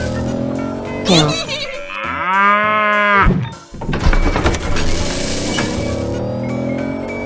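A cartoonish cow moos once, a long drawn-out lowing call in a 3D animal slide game, set between bursts of bright game effects and busy background sound.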